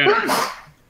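A single sharp sneeze, close and abrupt, fading quickly into quiet.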